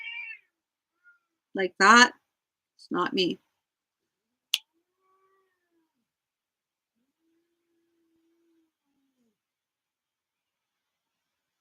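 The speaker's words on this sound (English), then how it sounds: "There may also be a cat fight going on off the camera." An offscreen cat lets out two drawn-out meows close together, followed by a sharp click and then near silence, with a brief bit of speech at the start.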